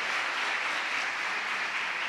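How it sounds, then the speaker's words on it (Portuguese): A church congregation applauds in a steady, dense wash of clapping that carries evenly from start to finish at moderate distance, with no voices over it. "Vamos aplaudir?"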